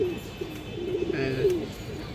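Pigeons, a breeding pair of fancy pigeons, give low, rolling coos close by over a steady, noisy background hum.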